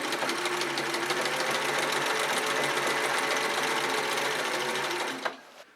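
Sewing machine winding thread onto its bobbin whirs steadily and loudly at close range for about five seconds, then stops abruptly, leaving a brief clunk.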